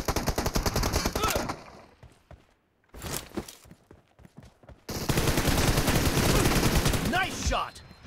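M416 assault rifle gunfire in a mobile shooter game during an intense team deathmatch: sustained rapid automatic bursts, loud and close, break off briefly, then resume in a dense stream with footsteps and game effects.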